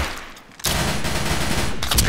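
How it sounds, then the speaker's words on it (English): A firecracker gun in a video game goes off in a sudden dense burst of rapid crackling shots after a quiet moment, loud and sustained to the end, with no speech. "I got the firecracker gun."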